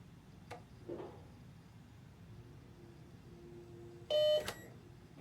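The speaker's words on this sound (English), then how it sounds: "medical wing alarm on" Alarm in the medical wing in Alan Wake 2, a short burst of loud electronic beeping near the end, after quiet ambient hum and a faint steady tone.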